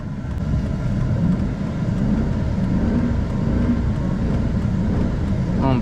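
Old military truck with a failing transmission, engine droning loudly at high revs in a steady rough roar, cab rumble throughout.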